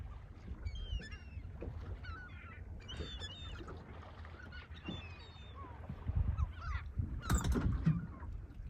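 Seagulls call repeatedly at sea while UK boat fishing, their shrill cries scattered near and far over the hum of the boat and lapping water, with a louder burst toward the end.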